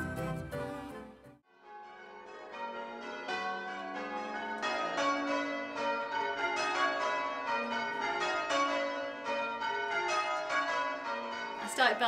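Church bells ring in a steady, overlapping sequence of clear tolls, a full change-ringing peal on a British Sunday continuing without pause after a brief opening strike.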